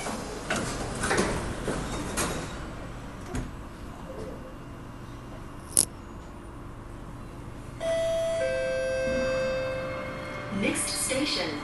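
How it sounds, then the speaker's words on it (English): An SMRT East West Line train at Bugis station on its way to Lavender, with its doors closing: a muffled clunk and rumble, then the sustained two-tone door-closing chime over steady station and train hum. "Doors are closing."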